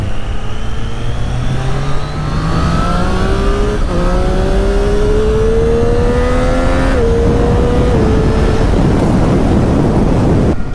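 A Triumph Street Triple 765 RS motorcycle engine revs hard and high, its loud, close whine climbing steadily in pitch through the gears with brief dips at each shift.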